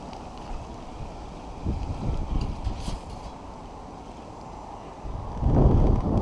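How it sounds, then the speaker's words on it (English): Strong wind gusting by the Tennessee River in Chattanooga buffets the microphone with steady low rumble, swelling into heavier blasts near the middle and again toward the end, with no talk. "Wind's kind of strong, so it's kind of blowing that line everywhere"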